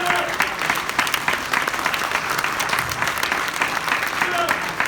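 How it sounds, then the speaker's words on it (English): Sustained applause from a crowd at a reparations summit, a dense steady wash of clapping with a few voices mixed in, close and loud for the whole stretch. "Give him another round of applause."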